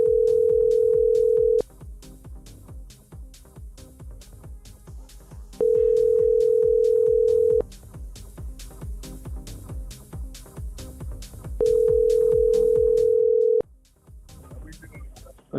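A telephone call rings out unanswered, three long steady ringback tones separated by pauses, loud and clear over a faint background hum, ending abruptly.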